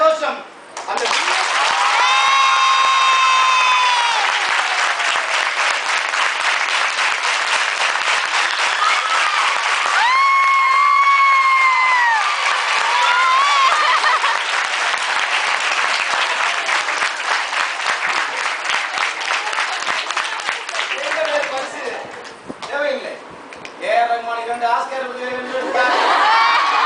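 Students at a farewell party applaud and cheer loudly for a long stretch, dense clapping with whoops and shouts rising over it, the crowd noise thinning near the end as voices break through.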